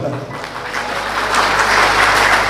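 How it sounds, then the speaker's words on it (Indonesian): An audience at an Indonesian network-marketing seminar bursts into applause, the clapping swelling from scattered to a dense, loud wash of hands over a couple of seconds. "Oke, aplaus untuk Anda semua dulu."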